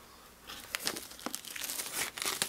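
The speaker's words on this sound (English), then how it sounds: "With the box cutter, I'm just going to make a little slit back here so that I can take off the plastic wrapping" Plastic wrapping around an iPad box crinkles and tears in quick, close, irregular crackles after being slit with a box cutter.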